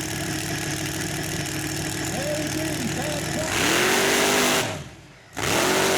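Mud truck engine on a drag track rumbling and surging in loud revs, rising to a roaring peak before a sudden cut and a quick return to a hard rev, with an announcer talking over it.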